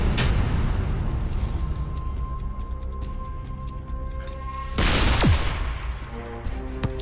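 Shots boom in the artillery video game ShellShock Live: one burst near the start and a louder, sharper blast after a stretch of sustained game tones.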